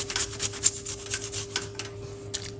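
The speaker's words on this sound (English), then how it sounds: "I'm just using this little piece of a ginger root. Take time and you grate it," Fresh ginger root is rubbed against a grater in quick, irregular rasping strokes, close up and fairly soft, with no one talking.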